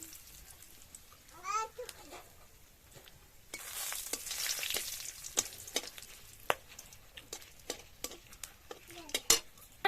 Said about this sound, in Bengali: তেলে দেব 2টো শুকনো লঙ্কা, একটা তেজপাতা আর গোটা গরম মশলা।